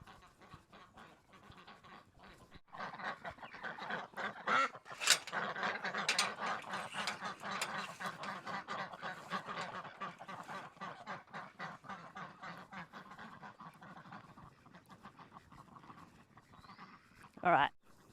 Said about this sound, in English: I better go let these ducks out, otherwise they'll quack the whole time we're on